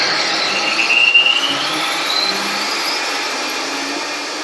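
Variable speed blender whirring at high speed through a white wine cream sauce, a loud steady drone with a brief louder surge early on.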